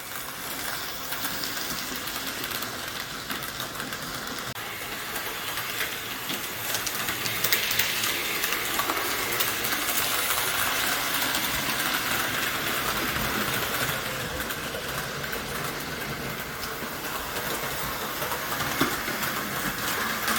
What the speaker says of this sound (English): most of the noise you're hearing is actually the freight cars it's pulling